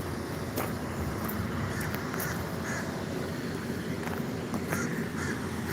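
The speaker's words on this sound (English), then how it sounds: "That's a raven, actually." A raven calls outdoors with several harsh caws spaced across a steady background of wind and ambient noise, moderately distant.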